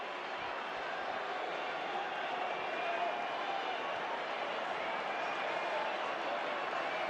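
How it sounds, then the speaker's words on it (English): Steady applause and crowd noise from Colombia football fans in a stadium, a broad even roar of clapping heard from a distance for the whole stretch, with no clear peaks. "And even the Colombia fans are applauding him."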